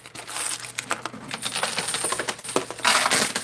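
Quarters clatter and jingle continuously inside a coin pusher arcade machine, with dense metallic clinks and cascades spilling over a steady low hum of the machine.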